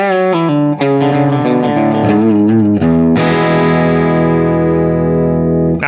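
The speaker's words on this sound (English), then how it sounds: "To get those fast and twangy guitar sounds, it's all about licks and riffage using open strings." Fast twangy country guitar licks on open strings, a rapid run of bright plucked notes ringing into a sustained chord, loud and close with a distorted, effects-laden tone and no voices.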